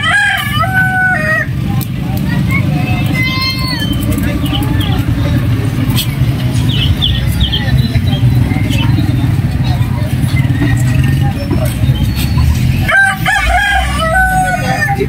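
A rooster crows near the start, then again later, over a busy background of engine rumble and chatter; other birds chirp faintly.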